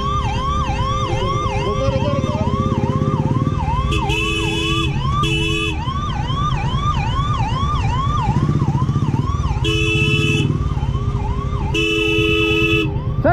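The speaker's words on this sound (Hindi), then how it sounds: "एम्बुलेंस आ रही है" An ambulance siren wails in a fast, repeating up-and-down cycle, loud and close, while stuck in Delhi traffic, with bursts of vehicle horns blaring over it and a low traffic rumble underneath.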